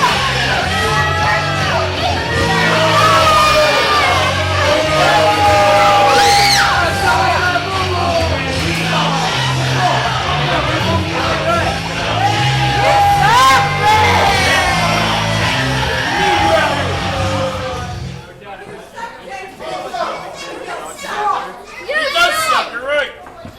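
Loud, unruly crowd in a wrestling arena yelling and shouting continuously, with many overlapping voices and chants, quieting briefly near the end before more scattered shouts.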